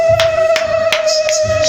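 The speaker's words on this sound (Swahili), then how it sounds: "Piga makofi na vigelegele kwa kufunguliwa." Congregation hand claps ring out at a prayer meeting, about five evenly spaced claps over a continuous held tone, moderately loud and steady.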